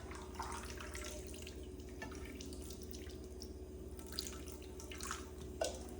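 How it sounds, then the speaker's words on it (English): Quiet running water from a tap trickles gently and steadily into an oiled frying pan, with small splashes and drips over a low background hum. "you're going to want to turn your water on, very gentle"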